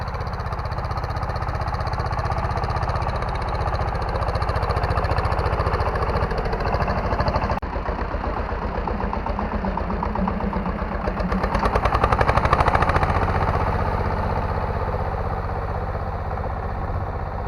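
Small tractor engine, a Bulat SF-200, pulling a hedgehog inter-row weeder through a potato field, a loud steady chugging drone that rises and swells briefly midway, with no voices.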